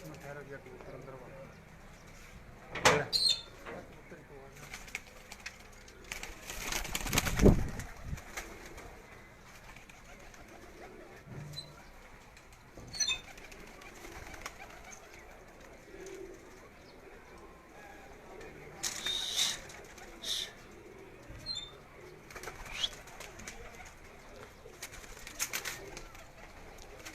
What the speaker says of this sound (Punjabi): ਠਹਿਰ ਗਿਆ ਕਬੂਤਰ ਅੰਦਰ ਵਾ